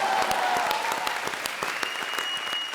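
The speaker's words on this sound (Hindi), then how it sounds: "जोरदार तालियां" Studio audience applause at a comedy show, a dense burst of clapping filling the whole moment with steady intensity, with a faint voice briefly audible beneath it.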